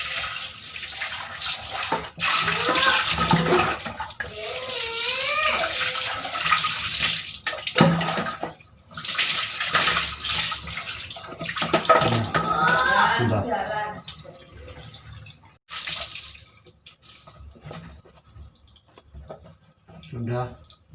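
Water pours and splashes while a white peci cap is rinsed during washing, intermittent gushing bursts close by, with a person talking over and between the splashes.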